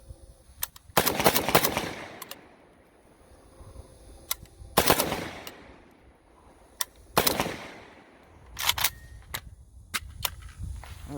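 Bursts of AK rifle gunfire at a shooting range, several rapid strings of loud, sharp shots separated by short pauses, each burst trailing off into echo.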